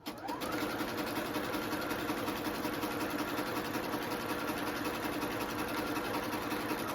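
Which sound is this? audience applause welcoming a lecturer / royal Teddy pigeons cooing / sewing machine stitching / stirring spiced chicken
sewing machine stitching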